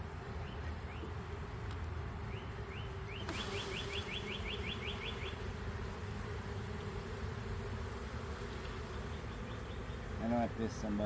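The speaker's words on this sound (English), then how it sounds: "No, beetles, lots of bees." A steady low buzzing fills the scene as many honeybees drone close by at a hive, with a few faint bird chirps and a brief murmur of voices.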